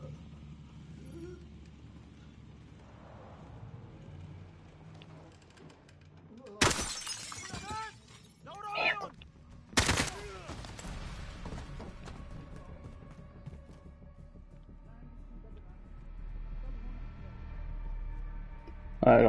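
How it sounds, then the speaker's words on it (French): Gunshots fired through a window in Call of Duty Modern Warfare shatter the glass: two sharp, loud broadband bursts a few seconds apart, each followed by tinkling fragments, set against low game ambience. "Ah, j'aurais pas dû tirer à travers la vitre."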